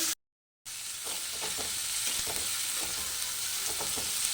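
Onions frying with turmeric for mutton curry crackle in a loud, even sizzle close to the pan, with soft stirring scrapes throughout, after a brief silent moment at the start and with no talk.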